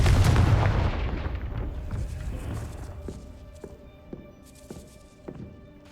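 A Confringo fire spell goes off in the Hogwarts Legacy video game as a loud, broad blast that fades into a rumbling decay, followed by a few faint thuds like footsteps.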